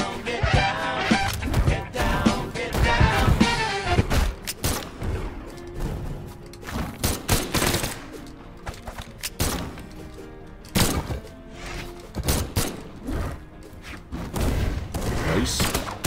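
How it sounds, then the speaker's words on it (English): Gunfire in the fighting game Brawlhalla, irregular clusters of punchy shots and impacts mixed with game music and effects, with someone talking over parts of it. "Alright, I'm gonna use guns."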